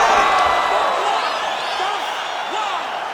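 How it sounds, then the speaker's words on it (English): Arena crowd in the EA Sports UFC 5 fighting game roaring and cheering with whoops as a bout ends, a dense steady wash of noise that fades slightly toward the end, with commentary voices mixed in. "crowd loving it"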